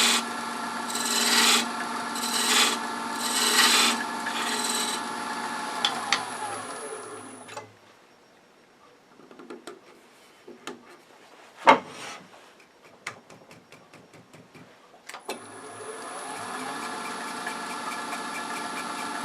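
Wood lathe spinning a wooden box blank, a steady humming motor whine at the start and end with a quieter gap between holding faint scrapes and a sharp knock, close and without talk.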